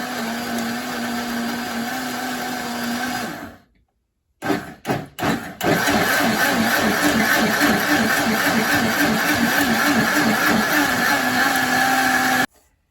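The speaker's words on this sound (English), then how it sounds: "Now we're gonna need this blender to blend up all of our fish" A blender motor blending fish whirs loudly, stops briefly, sputters back on in a few short bursts, then runs steadily again before cutting off.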